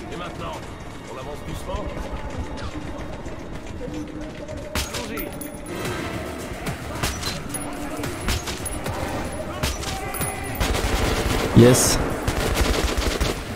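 Gunfire in the video game Metro 2033 Redux, sniper shots and bursts cracking intermittently through a tense game soundscape, with a sharper, louder report near the end; someone talks over it.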